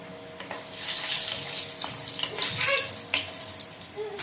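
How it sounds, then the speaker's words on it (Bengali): Bori lentil dumplings fry in hot mustard oil, giving a steady close hiss and sizzle with scattered crackles and pops that swell and ease as they cook. "এখন সব থেকে প্রথমে আমি কয়েকটা বড়ি ফ্রাই করে নেব"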